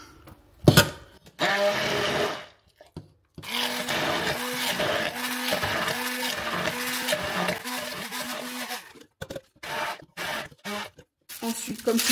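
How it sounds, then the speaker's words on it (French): Immersion blender whirring through strawberry gel for a tart topping, a steady pulsing motor drone running close for several seconds after a short burst, then stopping into brief clattering handling sounds. "Donc au mixeur plongeant, ça marche très bien."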